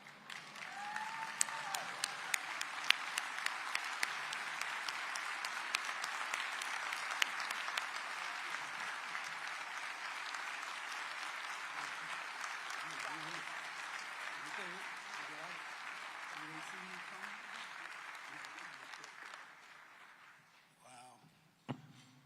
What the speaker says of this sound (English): Round of applause for the first daughter.